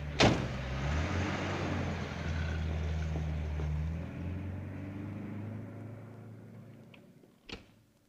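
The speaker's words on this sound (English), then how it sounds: "There's a car coming up the drive." A car rolls up a driveway with a steady engine and tyre rumble at moderate distance that slowly fades, then a sharp clunk near the end.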